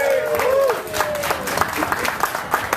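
An audience at a Bohemian Night music gig applauds the pianist, a dense burst of clapping that stays strong, with a voice speaking over the start.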